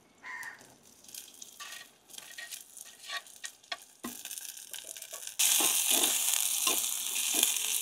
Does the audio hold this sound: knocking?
no